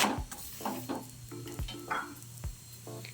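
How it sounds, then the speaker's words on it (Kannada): A green gram paratha fries in oil on a pan with a soft, steady sizzle, broken by several close scrapes and knocks of a spatula against the pan, no one speaking. "ಎರಡು ಕಡೆ ಎಣ್ಣೆ ಹಾಕಿ ಚೆನ್ನಾಗಿ ಬೇಯಿಸ್ಕೊಳ್ಳೋಣ"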